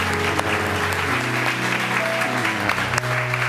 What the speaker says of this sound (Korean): 하나님 앞에 큰 영광의 박수를 드리겠습니다.